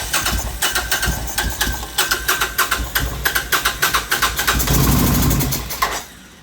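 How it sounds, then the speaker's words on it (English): A Suzuki VS1400 motorcycle's starter motor cranks the engine in rapid, even pulses for several seconds, loud and close, then winds down and cuts off with no voices. "this motor does spin"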